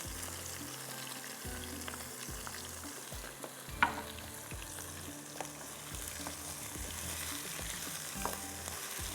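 Chopped onion with ginger and garlic frying in a pan, a soft, steady sizzle broken by occasional stirring clinks and scrapes, close and quiet with no talk.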